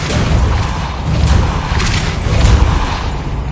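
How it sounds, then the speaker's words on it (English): Depulso force spell cast in Hogwarts Legacy, a loud rumbling boom with crashing, thudding impacts swelling and ebbing across several seconds. "Depulso."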